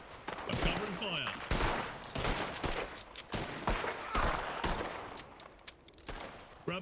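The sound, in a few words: gunfire in a Western roleplay video game (WildRP)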